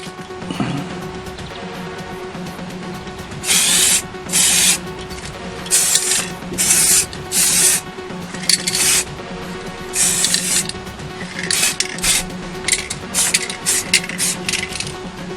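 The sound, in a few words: spray painting second coat on hair clippers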